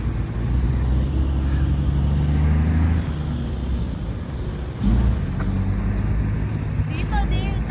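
Steady roar of road traffic along a highway heard while walking beside it, vehicles rumbling and whooshing past in a continuous wash, with people chatting over the noise.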